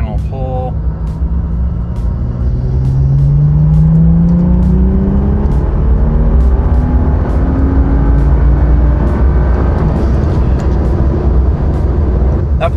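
A BMW E30 running a custom tune makes a full-throttle pull, with the engine note rising steadily in pitch through the gears and staying loud and close from start to finish, with no talk over it.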